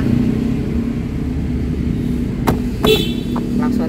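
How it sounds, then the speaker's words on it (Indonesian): A Nissan Grand Livina idles with a low, steady engine rumble, broken by a couple of short, close car-horn toots near the end. "Klaksonnya bunyinya begitu tuh."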